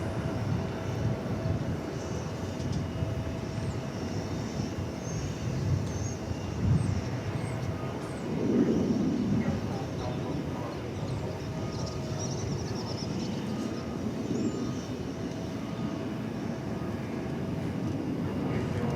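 A UPS cargo airplane arrives at DFW Airport, its engine noise a steady broad roar heard from a distance across the airfield, swelling slightly midway through with no talk over it.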